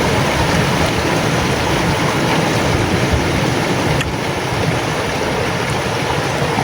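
Large ocean waves crash and roar in a continuous loud wash of surf, heavy and unbroken throughout with wind noise mixed in.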